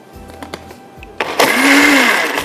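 A blender runs briefly to mix a drink containing basil seeds. After a few soft knocks it starts up as a loud, steady motor whir that holds close until the end.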